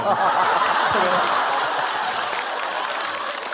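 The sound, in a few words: audience applause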